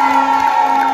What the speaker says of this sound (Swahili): Wapi makofi ya Kuria Kimani?